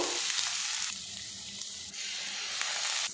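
Grated radish frying in a pan while being stirred, a dense continuous sizzle with repeated scraping strokes of a spoon, close and loud, with no voices.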